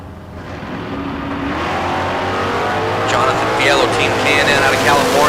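Drag race cars, including a Camaro, accelerating hard at a bracket race, a loud sustained engine roar building steadily over several seconds, with rising whine and tire noise near the end and an announcer talking over it.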